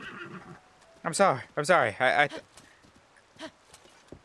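A horse in Zelda Tears of the Kingdom neighs loudly and whinnies in bursts after swimming, hooves clip-clopping nearby, while someone speaks briefly.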